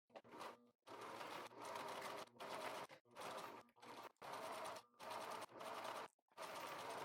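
Sewing machine stitching close along the original distressed hem of a pair of jeans during an alteration, running in steady bursts of several seconds separated by short pauses, close and alone.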